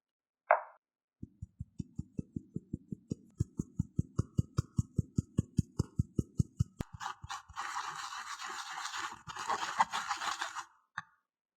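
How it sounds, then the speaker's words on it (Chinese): Apple cake batter of flour and almond flour is mixed in a bowl: a quick, even run of soft thumps lasts several seconds, then rougher scraping swishes follow. All of it is close and fairly quiet, with no talk. "搅拌成糊状，看不到干面粉就可以了。"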